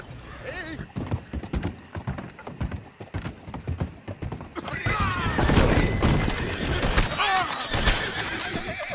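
A horse whinnies and snorts amid clip-clopping hooves in Red Dead Redemption 2, loud and close, followed by a longer, shrill neigh over clattering game sounds.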